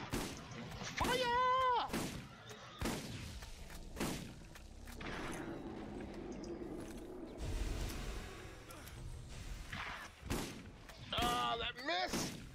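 A weapon fires in the video game Borderlands, a series of punchy synthetic blasts and mechanical clanks with a warbling electronic whine near the start and end and a low rumble in the middle, under a player's voice.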